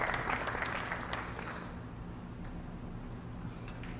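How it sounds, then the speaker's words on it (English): Players at a 14.1 straight pool world championship clap in appreciation of a 100-ball run, faint scattered hand claps fading out over a low steady hum of the hall. "Players are clapping. They appreciate this."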